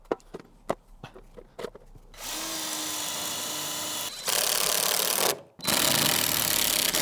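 Power drill pre-drilling holes in wooden battens for a workshop wall: a few sharp knocks and clicks, then three loud sustained whirring bursts into the wood, separated by short pauses.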